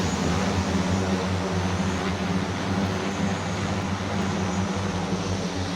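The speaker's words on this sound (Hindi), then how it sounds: "ये ड्रोन है बहुत ताकतवर और इस ड्रोन की ताकत देखिए, ये मुझे उठाकर ऊपर ले जा रहा है" Varuna passenger-carrying drone taking off with its propellers spinning, a loud, steady droning roar with a strong low hum that fills the whole clip without a break.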